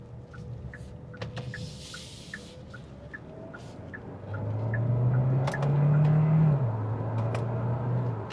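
A 2026 Kia Sportage Hybrid pulls around a corner, its engine and road drone rising and swelling midway through the turn before easing off slightly, heard steadily from inside the cabin with faint clicks over the hum.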